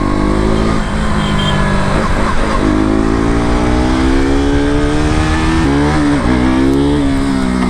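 A KTM RC 200 BS3 motorcycle being ridden, its single-cylinder engine loud and close, revving up through the gears with rising pitch, a brief drop and shift near the end, heavy wind rush throughout.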